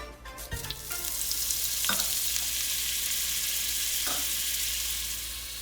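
Garlic butter sizzling and frying in a hot pan for a steak dish, a loud steady hiss that swells after a couple of utensil clinks near the start and carries on close and continuous with no talking.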